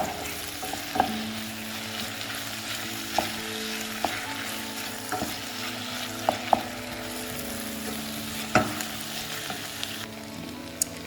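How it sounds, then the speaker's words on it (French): Fish is stirred with mustard in a bowl, giving a continuous soft, wet mixing noise broken by irregular sharp clicks and taps of the utensil against the bowl, with no voices. "Puis, je vais mélanger."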